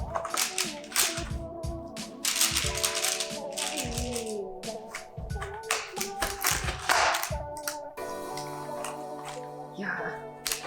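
A knife cracking through a frozen yogurt fruit bark fresh from the freezer, giving a run of sharp, close snaps and taps in uneven bursts, with a few quieter scraping stretches.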